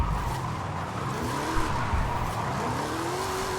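A 2010 Ford Crown Victoria Police Interceptor drifting in a racing video game, its tires squealing in long sliding wails over a steady engine drone, loud and continuous.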